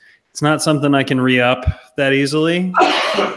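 Someone talks casually on a live chat show, then a sudden breathy, explosive sneeze bursts out near the end, close and loud.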